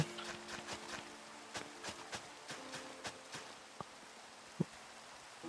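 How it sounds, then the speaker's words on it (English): Rain falls steadily in Minecraft survival play, a soft constant patter with a few sharper drops and faint tapping, and no talking. "It's not stopped raining, but we have a beam of sunshine right here."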